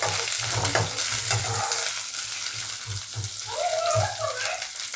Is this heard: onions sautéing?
yes